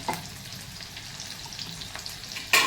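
Green chillies frying in a pan for a Maharashtrian radish-leaf bhaji, a steady soft sizzle with faint crackles and a louder burst of spitting at the very end, no talking.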